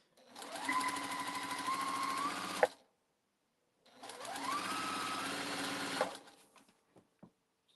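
Sewing machine stitching cotton fabric, two steady runs of rapid mechanical whirring of about three seconds each, separated by a short pause, ending with a few faint clicks.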